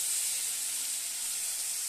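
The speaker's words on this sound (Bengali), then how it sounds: "এই মাছগুলো না বড্ড ফোটে জানো ভয় লাগে মানে সামনে যেতেই ভয় লাগে তাই দূরে দূরে দাঁড়িয়ে দাঁড়িয়ে মাছগুলো একটা একটা করে ভাজছি" Fish fried one at a time in very hot oil on a gas stove, giving a loud, steady hiss and sizzle of spattering oil, close and unbroken.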